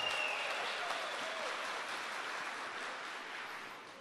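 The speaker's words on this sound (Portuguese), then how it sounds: "Aplaude quem está do seu lado, aplaude quem está do seu lado" A church congregation applauds during a sermon, a soft, distant, continuous patter of many hands that slowly fades, with a faint voice briefly audible early on.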